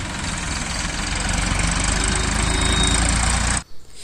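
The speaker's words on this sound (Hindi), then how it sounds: "अभी ट्रैक्टर आ चुका है जो बाजरा निकालेगा, सामने से आ रहा है" A tractor arriving at a farm field to power a millet thresher, its heavy diesel engine rumbling loud and close, then cutting off abruptly near the end.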